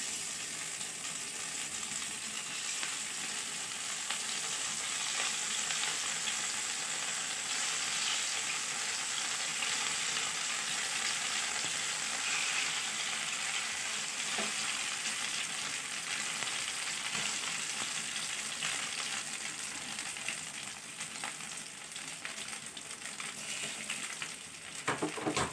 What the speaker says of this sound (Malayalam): ഇനി ഈ ഭാഗം നല്ലപോലെ ഒന്ന് ഫ്രൈ ചെയ്ത് വരണം.